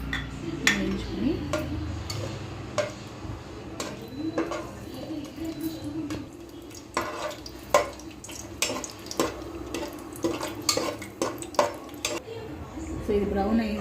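Cashew nuts fry in a little hot oil in a pan while being stirred for mushroom rice, with repeated close clinks and scrapes of a utensil against the pan over a faint sizzle.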